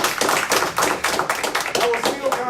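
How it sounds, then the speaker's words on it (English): An audience gives a scattered round of applause at a business talk, with uneven bursts of clapping that come in loose waves with some voices mixed in. "come on, give yourself a real round of applause."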